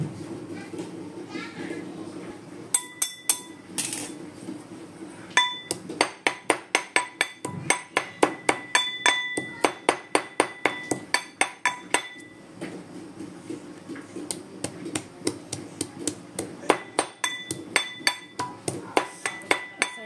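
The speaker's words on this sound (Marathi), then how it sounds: "बारीक चांगलं कुटून घ्यायचं" Ingredients are pounded finely in a mortar for Khandeshi khichdi, a steady run of sharp, close knocks at a quick even rhythm, with brief pauses and some clinking between strikes.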